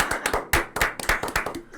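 A small group claps in a quick, uneven burst of applause to welcome a guest on a podcast set, close and fairly loud, with no talking over it.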